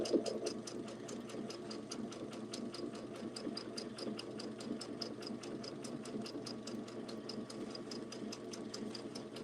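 A sewing machine runs steadily with rapid, even needle strokes, briefly back stitching before carrying on forward, close and fairly quiet with no talk over it.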